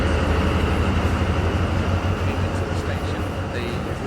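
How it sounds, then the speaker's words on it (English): A train rolls into a railway station in Sri Lanka with a steady low rumble and continuous wheel and engine noise, loud and close, holding level throughout. "At that time, then your train is coming there."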